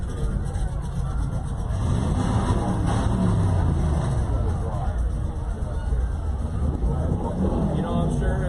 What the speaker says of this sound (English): I'm sure the listeners out there can definitely hear these cars revving their engine